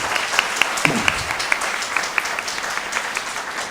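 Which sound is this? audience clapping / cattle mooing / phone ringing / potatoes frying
audience clapping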